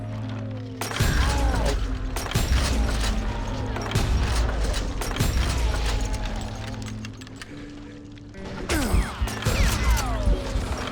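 Crashing blasts and shattering debris burst through a Call of Juarez Gunslinger gunfight, loud and dense, with an explosion and scattered gunfire overlapping over about ten seconds.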